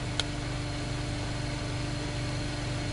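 A homemade U-core dynamo spins up under a short-circuit load with a steady low mechanical hum and drone, close and constant, a faint click near the start and no voices.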